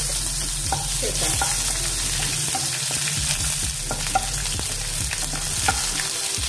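Chopped medium onion frying in a pan for a Bengali lentil-dumpling curry, a loud continuous sizzle under a low steady hum, with scattered scraping stirs close by.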